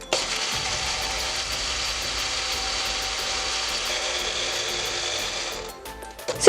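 A blender whirs steadily as it grinds oats into oat flour, a dense, loud motor roar lasting several seconds before cutting off abruptly at the end.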